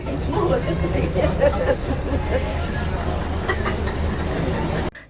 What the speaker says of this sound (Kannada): ಹಂಗಂದ್ರೆ ಅ rare 1948 walker rail motor, fully ರೀಸ್ಟೋರ್ಡ್ right here by local volunteers